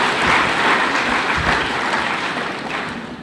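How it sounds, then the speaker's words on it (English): Crowd at a State House event in Kenya applauding leaders who have just spoken, a loud, sustained burst of clapping that gradually tapers off toward the end. "let's give a round of applause for all our leaders who have spoken"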